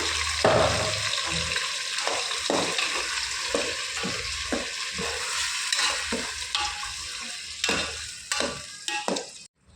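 Paneer fries with ground masala in a pan, a continuous close sizzle broken by repeated stirring scrapes, ending abruptly.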